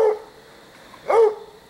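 A coon hunting dog barks at night: two short barks a second apart, fairly distant, with only the quiet hush of the outdoors in between.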